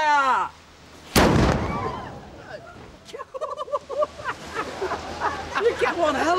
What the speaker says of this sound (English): You get one hell of a blast standing here.